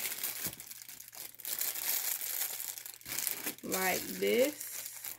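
Jewelry packaging is folded flat by hand, giving bursts of crinkling and crumpling between moments of quieter handling, while someone speaks close by.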